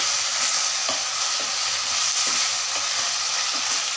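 Mushroom manchurian is mixed with a spoon in a pan with soy sauce over a medium-low flame, making a continuous loud sizzle broken by repeated scraping stirs at a fairly regular rhythm.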